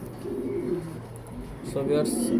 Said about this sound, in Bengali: দেখার জন্য একটা কবুতর দেখতে পারতেছেন, পাইথন জেনারেশন কবুতর, টপ কোয়ালিটি অরিজিনাল পাইথন